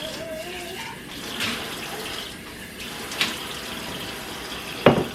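Homemade kombucha poured through a strainer to catch chunks of SCOBY, a continuous soft trickling wash with a few small clinks and a sharper splash near the end.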